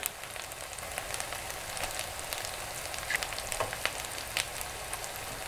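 Sauce ingredients for a salted squid dish, including pepper, sugar and tomato sauce, sizzle steadily in a frying pan, a constant crackling hiss with occasional sharper pops, no voices.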